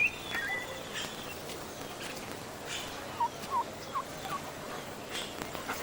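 Domesticated turkeys gobble in a Maya forest setting, a few short bursts of calls over a busy background of other birds and outdoor ambience, moderately close.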